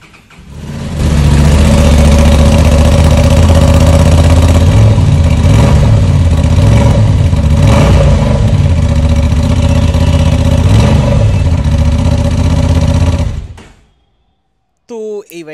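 A Honda Transalp motorcycle engine runs loud and close for about twelve seconds, holding a steady throbbing idle with some rises in pitch, then cuts off abruptly into silence before a short burst of other noise.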